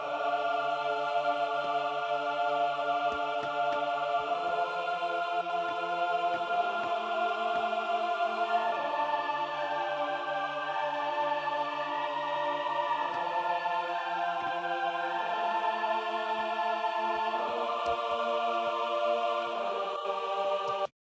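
Sustained sampled choir voices sing slow, shifting chords, full and steady throughout with no talking.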